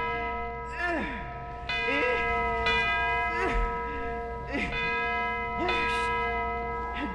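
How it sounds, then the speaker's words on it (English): A church bell, rung by swinging its rope, tolls with a sustained, ringing tone throughout while a voice talks over it in a dramatized storytelling setting. "Oh, here's the bell, and here's the cord. Now I'll swing it hard."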